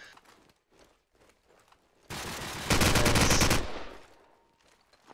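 Rapid automatic gunfire bursts loud and close in Call of Duty 4 promod on the Backlot map, a sustained stream of shots lasting about two seconds after a few faint footsteps.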